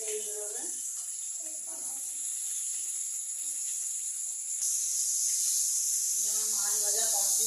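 Khoira fish frying in hot oil, a steady bright hiss and sizzle running throughout and growing louder partway through, with someone talking over it at intervals.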